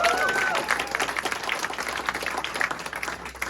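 Applause from a press conference audience for Charles Wright, the local number 4 player, a steady broadband wash of clapping that holds for several seconds at moderate loudness.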